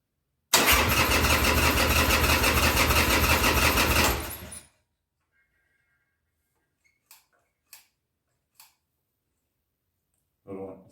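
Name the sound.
2000 Harley Sportster 1200C motorcycle engine starting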